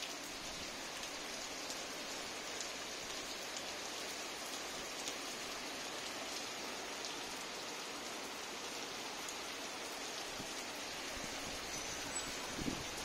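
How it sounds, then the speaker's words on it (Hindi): Heavy rain roars steadily in a thick, unbroken wash of noise, constant throughout with no voices. "ये देखो कितनी तेज़ बारिश आ रही है"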